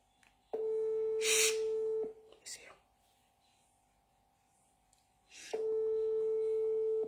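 Phone ringback tone on an outgoing audio call, a steady electronic beep lasting about a second and a half, repeated after a pause, with brief faint voices in the gaps.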